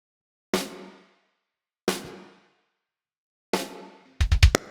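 A gated live-room drum kit with plate reverb plays three spaced kick-and-snare hits, each trailing a short bright wash, then a quick cluster of rapid hits closes the pattern.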